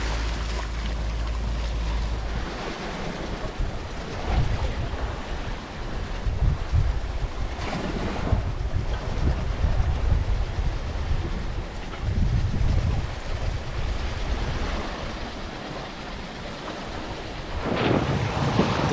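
Wind at sea rushing steadily during a sailing passage from Flores to Lombok in Indonesia, a broad airy roar with gusting swells and water wash throughout, fairly loud and continuous with no voices.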